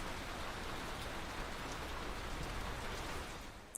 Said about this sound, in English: You hear that rain